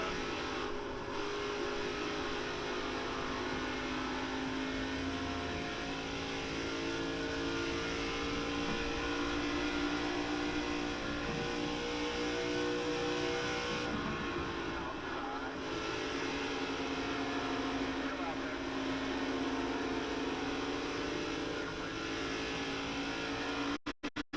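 Race car engine in the iRacing simulator during an ARCA Series race at Charlotte, a loud, sustained high-pitched drone that holds steady throughout with only small shifts in pitch.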